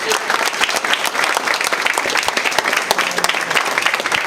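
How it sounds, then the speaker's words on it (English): A crowd applauds airport authority employees at an airline service announcement, loud sustained clapping from many hands filling the space evenly throughout. "let's give a round of applause to all your dedication and work"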